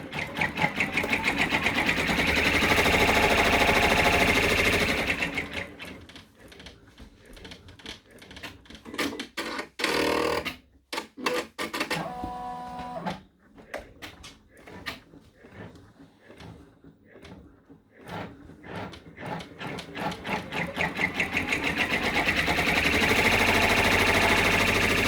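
An in-the-hoop embroidery machine stitches a contour on stabilizer, a loud, steady mechanical whir with rapid needle clatter, easing into lighter ticking runs mid-clip before the full drone returns.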